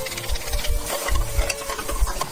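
Sliced mushrooms sizzling and crackling in a hot buttered pan, with a steady fry punctuated by rhythmic stirring scrapes, close and moderately loud.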